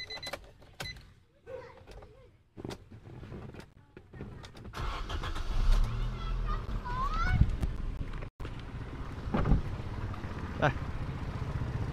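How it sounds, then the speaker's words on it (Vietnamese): A 2015 Nissan Sunny 1.5 sedan starts up after a brief spoken word, its engine catching and settling into a steady idle with a loud, close rumble that continues to the end. "Đây em sẽ nổ máy cho các bác xem này."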